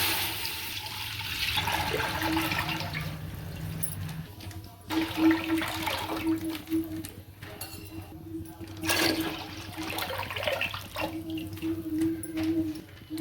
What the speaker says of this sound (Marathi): याच्यात दूध टाकून घेऊ